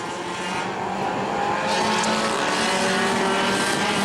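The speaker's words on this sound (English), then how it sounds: "Bob Say, number 72, going to come down and complete his lap" A small Ford Bomber A class race car howls steadily around the New Smyrna track on a qualifying lap, its engine note loud and continuous with a slight shift in pitch as it passes.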